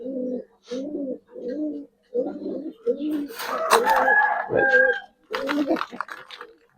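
Giribaz high flyer pigeons coo in a run of close, rhythmic calls, then a louder jumble of sharper bird sounds and rustling takes over before cooing returns.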